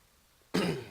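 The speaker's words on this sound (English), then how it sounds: "God, I am so sorry about this clearing my throat." A man playing Minecraft clears his throat once, a sudden loud, raspy burst that starts abruptly after near silence and fills the rest of the moment.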